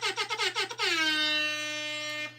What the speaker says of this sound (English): Let's turn the air horn down a little bit.